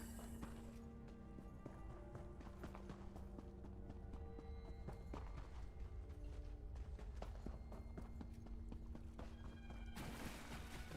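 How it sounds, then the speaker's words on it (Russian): A horse neighs in The Elder Scrolls Online over a steady, continuous clip-clop of hooves and busy game ambience. "Кто там ржет?"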